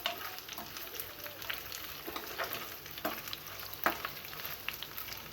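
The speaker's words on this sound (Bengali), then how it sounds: "একটু আমি ভালো করে লাল করে ভেজে নেব" Oil sizzles steadily as dried kachki fish fries in a pan, with occasional scrapes and stirring clicks, close and continuous.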